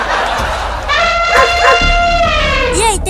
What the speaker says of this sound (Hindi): ये इतने सारे कुत्ते कहाँ से आ गए?